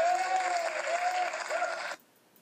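Canned applause effect placed on a video editing timeline: a steady burst of crowd clapping that plays loudly for about two seconds, then cuts off abruptly into near silence.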